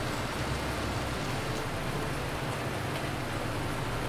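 Rain falls in Landwirtschafts-Simulator 19 as a steady, even hiss of downpour, constant and moderately loud with no other sounds or voices.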